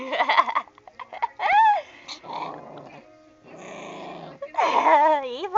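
A puppy growls over a dental chew stick in repeated bursts, close and fairly loud, with whiny high yelps mixed in and brief quiet gaps between the rumbling growls.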